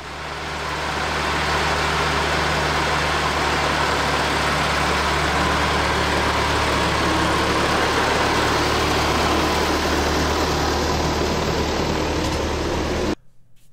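A 1945 Ford 2N tractor engine idles in a garage, loud and steady with a low rhythmic rumble that holds evenly for over ten seconds before cutting off abruptly.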